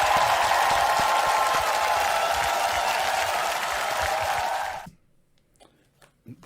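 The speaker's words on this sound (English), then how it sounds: "I'm going to listen to the applause because she deserves it." Audience applause after a vocal performance of a song, a dense sustained wash of clapping that fades out abruptly near the end, leaving near silence.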